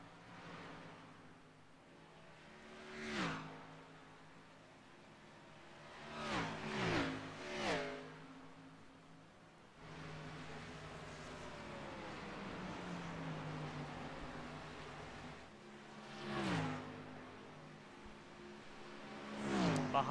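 Mazda Miata race cars at Darlington Raceway roar past one after another, engines rising and falling as they sweep by, with a steady drone of more distant cars between the louder passes.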